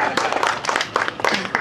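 Crowd applause at a Malaysian GE13 election ceramah held by the DAP, a political rally: dense clapping and cheering in several loud surges, mixed with crowd voices.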